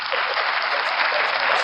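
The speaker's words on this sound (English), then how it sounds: "Give it applause." Brief burst of steady, dense applause on a radio podcast, bright and continuous, sounding like a canned or studio applause effect played alone.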